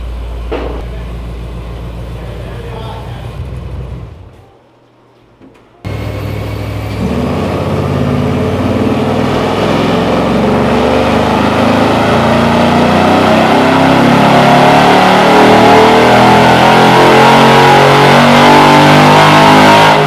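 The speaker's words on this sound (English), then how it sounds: "now let's put Brandon's car on. And it's not fully dialed in on E85." A car tuned for E85 fuel runs on a chassis dyno in a shop, idling roughly at first, briefly dropping near silent, then revving hard into a loud, sustained, climbing engine roar that fills the rest.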